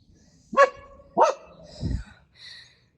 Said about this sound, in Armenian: Դու դեռ շարունակում ես հաչալ, հա?